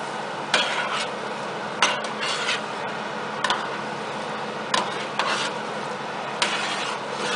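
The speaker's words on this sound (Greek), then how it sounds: "Ανακατεύουμε πάρα πολύ καλά." Homemade tomato paste being stirred in a baking pan, a steady scraping rub with sharp periodic clinks of the utensil against the pan edges, close and alone with no talking.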